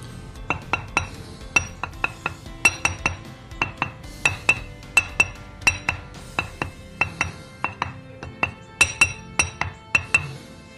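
Repeated taps on a cracked silicon carbide grinding wheel give short, dull knocks with no ringing sustain, struck in an uneven rhythm of about two dozen hits, close and clear with no talk.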